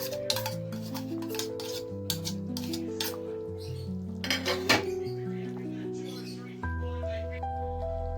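Spoon scraping and clinking against a pan while achari chicken gravy is stirred, close metallic scrapes in short bursts over steady background music.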